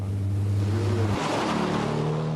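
A pre-war BMW 328 sports car driving, its engine humming steadily, then briefly dropping during a smooth gear change before pulling again with a rougher, rising note, loud and close.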